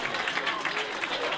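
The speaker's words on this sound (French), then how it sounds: "ça a commencé à applaudir" A crowd claps steadily in a dense, continuous patter of applause, with voices mixed in underneath.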